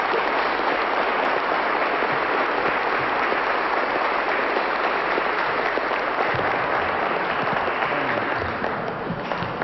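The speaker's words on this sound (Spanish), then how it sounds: "Vamos a brindarle un fuerte aplauso" Strong applause from a large audience at a Bolivian government event honouring President Evo Morales, dense continuous clapping at high volume throughout with no break.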